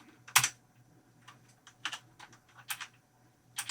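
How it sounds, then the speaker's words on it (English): A few sharp, separate key presses on a computer keyboard while photos are flagged, one firm click followed by several lighter taps at an irregular pace, close and clear in a quiet room. "So I press P on the keyboard to flag any images that I really like as a"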